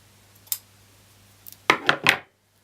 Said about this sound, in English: Cut away the excess and the threads.